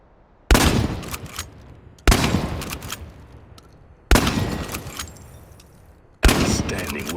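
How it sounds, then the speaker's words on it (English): Four loud shotgun blasts fire at a steady pace of about one every two seconds in the video game Chernobylite, each a sharp boom followed by a decaying rumble and metallic rattle before the next shot. "The shotgun has considerable spread, so you may as well leave your glasses at home."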